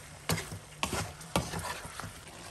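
A pan of chicken curry ingredients with turmeric and salt being stirred, giving three or four distinct close scraping strokes over a light sizzle.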